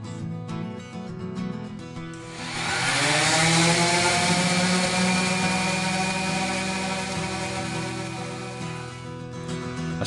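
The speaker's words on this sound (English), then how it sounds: "Starting out with 120 grit on my random orbital sander." A random orbital sander with 120 grit sanding a wooden guitar body spins up and runs with a loud, steady whine and rasping buzz, slightly easing off toward the end, no voices.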